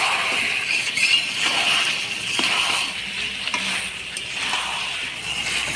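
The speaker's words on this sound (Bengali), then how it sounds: "বাটা মশলা দিয়ে ভালো করে নাড়াচাড়া করে নেব" Goat meat frying with ground spice paste being stirred in, a steady close sizzle with scraping stir strokes running throughout, no talk.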